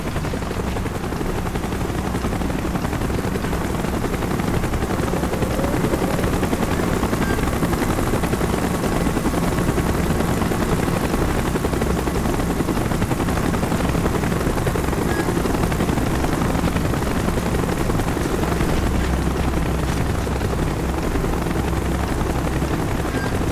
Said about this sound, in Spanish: ¡Helicóptero en camino!